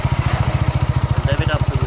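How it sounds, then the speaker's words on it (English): A Benelli TnT25 motorcycle engine idles with a steady, rapid low thump, each exhaust pulse evenly spaced and close, with a brief faint voice partway through. "So this is how it sounds when it's an idling."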